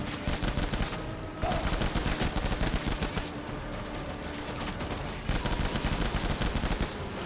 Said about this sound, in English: Where are you shooting me from, please, game?